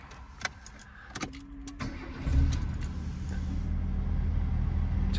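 1985 Mazda 929 HB sedan starting up: a few clicks and key jingles, a brief crank, then the engine catches and settles into a steady low idle, heard close and alone.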